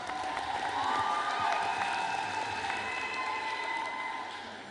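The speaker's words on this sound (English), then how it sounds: "So let's clap hands for the catering department." A crowd at a graduation ceremony and anniversary celebration gives applause and a little cheering for the catering department. Steady moderate clapping fades slightly toward the end, with faint voices beneath.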